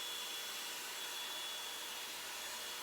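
A Revlon brush hair dryer blows with a steady, even airflow hiss that holds constant throughout, close and alone with no talking.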